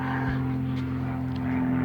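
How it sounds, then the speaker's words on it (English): A small propeller plane from a flying school passes overhead, a steady droning engine hum that stays constant and moderately loud throughout, with no talking. "There's my plane every video, and I can tell it's the same plane because it's been over so many times"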